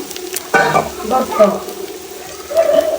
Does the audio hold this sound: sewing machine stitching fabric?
no